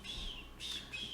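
A person imitating bird sounds with the voice, giving three short whistled squawks in a row, fairly faint.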